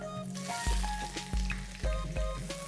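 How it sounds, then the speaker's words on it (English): Bay leaves and sliced onions hit hot oil for aloo mutton gosht, giving a steady close sizzle with a few dull thumps as pieces drop into the pan. "While the oil is still hot, I'm adding in some bay leaves for flavor, and along with this, the sliced onions."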